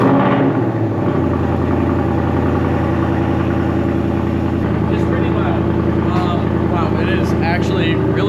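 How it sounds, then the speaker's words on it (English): A 2018 Audi B9 S4 Prestige makes a cold start in track mode, its engine catching after about a second and settling into a loud, steady, throbbing idle heard close by under a voice. "starting this for you guys and see what it sounds like in track mode on a cold start."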